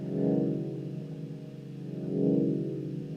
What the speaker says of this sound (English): Maybe I'm opening the filter when I start the track.